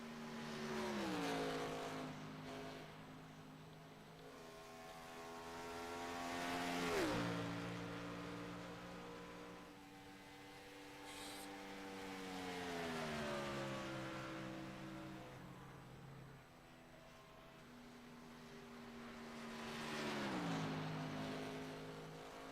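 Race car engines in a racing video game at Indy rise and fall in long whining sweeps as cars pass and shift. The sound is moderate and steady, with no voices over it.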